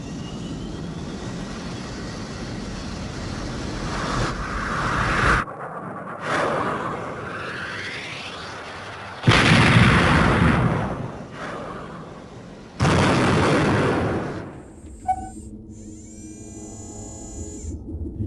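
A battle from the 1995 Command & Conquer cinematics, with Nod's ground attack on GDI troops in Africa: loud roaring bursts of artillery and aircraft, cut off abruptly between sections, ending in a fading whining tone.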